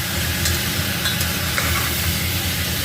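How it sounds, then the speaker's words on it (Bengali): Masala spices sautéed in a little oil with whole sugar, cooking for an elephant-foot yam curry: a steady, close sizzle with a few faint stirring scrapes, no talking. "আমি ভালো করে এখানে কিন্তু কষিয়ে নিচ্ছি"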